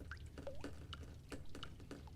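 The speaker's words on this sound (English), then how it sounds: "Yeah, there's water coming from the pipe work." Water drips from pipe work in The Stanley Parable: a series of distinct, irregular plinking drops, fairly quiet and close, with no other sounds.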